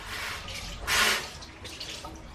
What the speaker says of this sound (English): So I'm gonna go ahead and rinse it off.